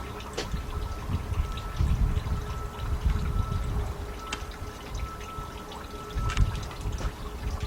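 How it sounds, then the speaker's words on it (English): Antifreeze drains from the 3.7 engine of a 2003 Jeep Liberty Sport during a partial rebuild, trickling and splashing steadily into a container nearby, with a few faint metallic clicks and knocks over the flow. "we got enough antifreeze draining out of here"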